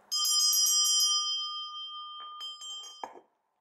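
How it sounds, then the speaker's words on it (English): A hand bell rung to summon an assistant: a quick burst of bright, close rings that sustain and fade, then a few more strikes before it is set down. "I'll call my assistant with this bell."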